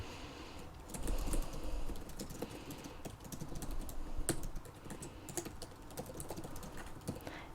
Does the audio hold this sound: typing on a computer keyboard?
yes